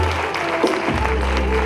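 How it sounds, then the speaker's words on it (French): Applause rises from the audience at an evening gala, a brief burst of dense clapping that sounds close and carries on steadily. "sous vos applaudissements"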